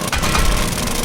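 A mining drill bores into ground in the survival video game 7 Days to Die, giving a steady, loud grinding drone that holds without a break for about a second.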